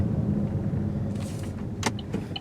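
A low, steady car engine rumble fills a parking area, with a brief faint clack or door-like click near the end and no talking.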